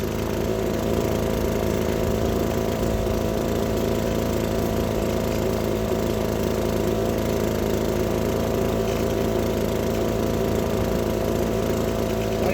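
A gas leaf blower engine warms up just after a carburetor fix, running as a loud, steady, close-up drone that holds level and unbroken throughout, with no talk.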